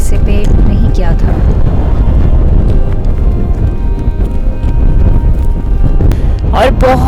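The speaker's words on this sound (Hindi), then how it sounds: "और बहुत तेज हवा चल रही है" Strong wind gusts during a rainy storm on a hillside, roaring and buffeting the microphone as a constant loud rush, with bursts of nearby talking over it.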